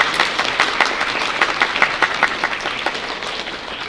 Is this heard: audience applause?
yes